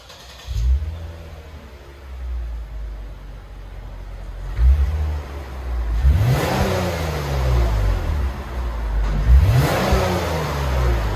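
2021 Lexus IS300 AWD with a 3.5L V6 and stock dual exhaust, muffler still fitted, heard up close as a low idle broken by three or four rising revs that swell and fall back, each rev louder than the last.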